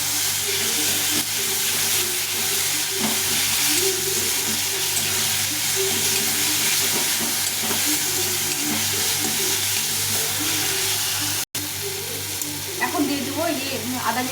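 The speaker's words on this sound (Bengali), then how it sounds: "রসুনটা বাটাটা দিয়ে দেবো এগুলো দিয়ে ভালো করে একটু কষিয়ে দেবো" Onion, tomato and garlic paste frying in a pan, a loud continuous sizzle with a low hum underneath and bursts of stirring and bubbling near the end.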